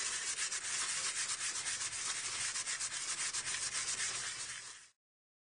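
Steady abrasive sanding against a glazed car brake rotor, a continuous gritty rubbing with a quick back-and-forth texture, close up, stopping abruptly near the end.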